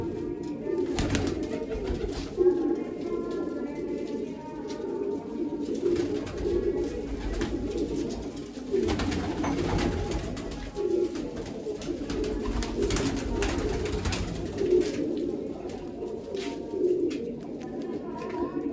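A steady chorus of low, throaty pigeon coos rolls on continuously nearby, overlapping one another with a soft murmur underneath.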